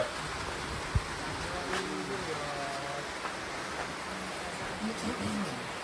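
Heavy rain pours outside a roadside shop on a trip from Guwahati toward Tawang, a steady broadband hiss with faint voices murmuring underneath.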